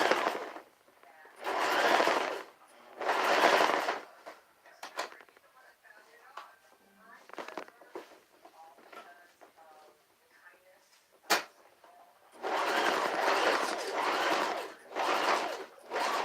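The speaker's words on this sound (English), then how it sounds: "And this one I'm sewing back and forth" A sewing machine stitches a homemade tubie pad, running in several loud bursts of rapid stitching separated by quieter pauses with small handling noises.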